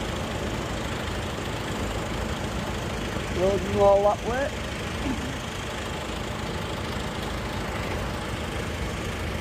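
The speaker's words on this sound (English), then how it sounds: "So the tractors are now about to get ready to go." Several tractors idle and rumble together before moving off in convoy from the old checkers, a steady low engine drone throughout, with a brief louder burst near the middle and someone talking over it.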